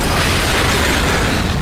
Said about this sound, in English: And a blast.